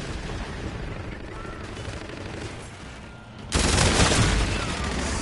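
Dense gunfire in the video game Call of Duty: Infinite Warfare, including shotgun fire: a steady low rumble of shooting that jumps to a louder, harsher blast past the halfway point, continuing close and sustained.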